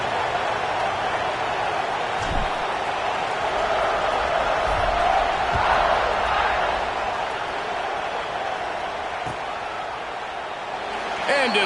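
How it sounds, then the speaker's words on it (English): Football stadium crowd in a video game buzzing after a score, a dense, constant roar that holds level throughout, with a few faint thumps beneath it. "this crowd is buzzing after that last score."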